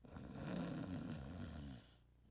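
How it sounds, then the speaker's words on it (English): A person snores while sleeping on their back, giving a loud, rough, low rattling snore that swells and holds for under two seconds before trailing off into quiet. "therefore narrowing the airway and causing you to vibrate more, thus increasing your snoring"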